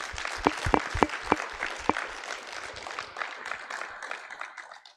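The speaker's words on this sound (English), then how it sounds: "I think we need to give a big round of applause to Hannah and Art for all the work that they" An audience at a 4-H banquet claps, sharp individual claps at first settling into a moderate, fading round of applause heard from within the room.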